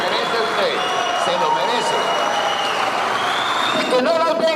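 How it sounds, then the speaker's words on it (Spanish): Applause in a Senate chamber during a session, steady and filling the whole moment, with voices talking over it. "Ese aplauso se lo merece usted"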